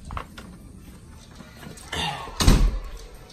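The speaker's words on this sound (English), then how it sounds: "let me close the door" A door is pushed shut indoors in a home, landing as one solid, fairly close thud after a brief shuffle of movement, with no speech over it.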